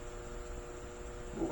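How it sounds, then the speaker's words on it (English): Steady low hum of an air conditioning unit running indoors in a comic store, a constant faint mechanical drone with a slight swell at the very end. "has the air conditioning been running all day?"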